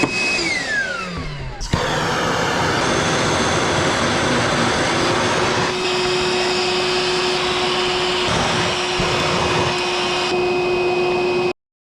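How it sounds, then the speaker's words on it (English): Vacuum cleaner sucking up debris after cutting through a plywood subfloor: a loud whine starts up, falls in pitch, then settles into a steady, droning roar with a sustained tonal hum for about ten seconds before cutting off abruptly. "And then I'll grab the vacuum."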